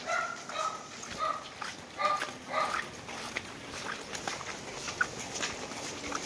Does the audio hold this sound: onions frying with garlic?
no